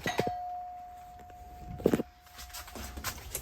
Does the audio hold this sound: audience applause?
no